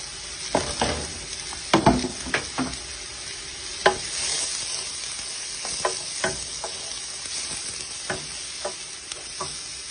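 Onion, garlic and celery sauté in a pan for homemade meatballs, a soft continuous sizzle broken by sharp scrapes and clicks of a utensil stirring against the pan.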